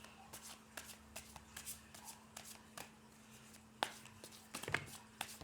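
Tarot cards being shuffled by hand, a quiet run of soft, irregular riffling snaps and slides close up, with a couple of sharper flutters near the end and a faint steady hum underneath.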